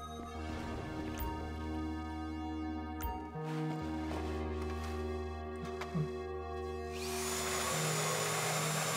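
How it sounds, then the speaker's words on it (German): A drill bores through a vault in the video game GTA Online with a steady whine and hum. Tones shift now and then, and it rises to a harsher, noisier grind near the end. No voices are heard. "Dann kannst du bohren."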